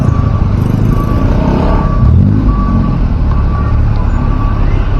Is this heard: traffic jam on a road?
yes